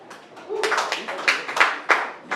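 Comedy club crowd at Bard's Town giving a few scattered, uneven claps that swell briefly and then thin out, with a voice murmuring faintly underneath.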